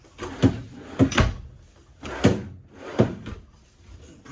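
Kitchen drawers in a 2024 Forest River Salem Hemisphere Hyper-Lyte 25RBHL travel trailer slide open and shut, giving five close, solid wooden knocks and rolling slides in a loose rhythm with no talk.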